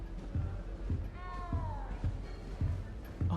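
A cat meows in Hogwarts Legacy, one drawn-out, falling meow over a steady game background with repeated soft footstep-like thuds, heard up close.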